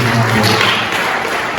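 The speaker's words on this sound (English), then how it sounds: "can we all please give a round of applause each and every one of these men" A congress audience of union executive council members breaks into a steady round of applause, dense clapping filling the space throughout with no voices over it.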